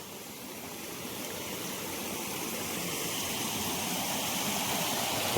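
Steady, dense rush of falling water, like a waterfall, loud and continuous and growing slightly stronger, with no voices.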